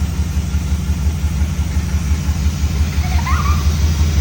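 A tribute Camaro's engine idles on its own, a steady, pulsing low rumble, close and fairly loud, with a brief faint voice over it.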